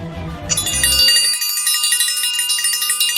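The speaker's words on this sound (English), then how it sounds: "It's time to ring the fucking bell" A bell rings out with a bright, sharp strike followed by a long shimmering ring that sustains and slowly pulses, loud and alone after a brief low rumble at the start.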